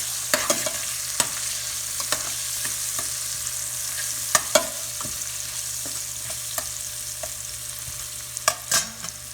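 Whole spices and cumin seeds frying in oil for pulao are stirred, a continuous low sizzle dotted with intermittent sharp clinks and scrapes of a spoon against the pan, unaccompanied by speech.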